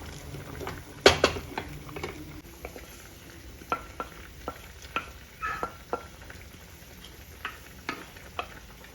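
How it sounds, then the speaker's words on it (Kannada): Fried okra tipped into a boiling gravy and stirred in a pot, giving soft scattered clinks and scrapes with a faint bubbling bed, one louder clatter near the start and no talk. "ಇವಾಗ ಇದಕ್ಕೆ ನಾವು ಹುರಿದಿಟ್ಕೊಂಡಿದ್ವಲ್ಲ ಬೆಂಡೆಕಾಯಿ, ಇದನ್ನು ಹಾಕೊಳ್ಳೋಣ"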